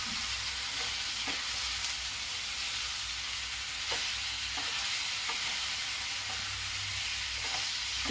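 Masala spices with coriander powder and hot red chili sizzling steadily in a pan for Bihari-style chicken masala, with a spoon scraping and stirring every second or so; a continuous hiss without talk.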